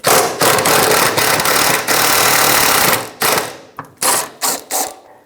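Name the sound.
ratchet with 14mm socket spinning out driveshaft carrier bearing bolts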